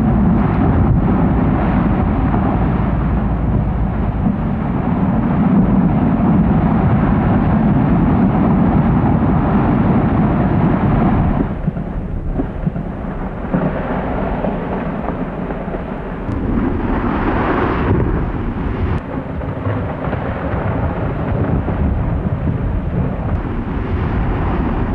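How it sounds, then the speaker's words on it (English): Glacier calving at the Sawyer Glaciers: a long, heavy roar of rumbling thunder-like ice collapse, loud and continuous with deep low-end weight, easing briefly before surging again. "Can expect to see calving glaciers."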